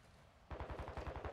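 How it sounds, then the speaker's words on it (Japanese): Gunfire in the video game DMZ, a quiet lull that suddenly breaks into a rapid automatic burst of about a dozen evenly spaced shots, faint overall as if from some distance. "まだちょっと銃声はするんだよな。"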